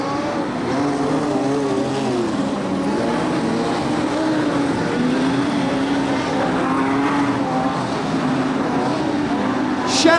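Modified sedan race cars roar around the Kingaroy Speedway dirt oval during a heat race, a dense wavering engine drone from several cars at middle distance, steady throughout with a brief burst near the end.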